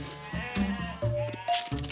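A cartoon sheep bleats in several short, wavering calls in quick succession, close and clear over about two seconds.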